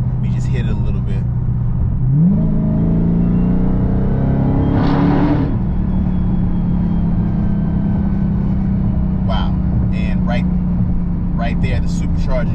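Supercharged 2020 Dodge Charger Daytona Hellcat Widebody accelerating on a track, a loud steady engine drone with a rising whine that keeps singing after the throttle lifts, running throughout beneath a voice.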